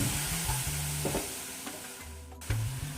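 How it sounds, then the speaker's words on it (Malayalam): Pineapple pieces sizzling in a pan while being stirred, a steady close sizzle broken by repeated scraping strokes and knocks, with no talk. "ഇനിയിപ്പോൾ അടുത്തതായിട്ട് ഈ പൈനാപ്പിൾ ഈ പാനിലേക്ക് ഇടുകയാണ്. നല്ലപോലെ ഇളക്കുക."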